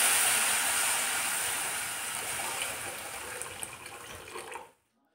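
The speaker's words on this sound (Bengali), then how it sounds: "গাজর ঘিয়ে ভেজে নেওয়া হয়ে গেল, এবার এর মধ্যে দিয়ে দেব দুধ।" Milk poured into a pan of ghee-fried grated carrots for carrot halwa, a steady close liquid pour and splash lasting about four and a half seconds before stopping abruptly.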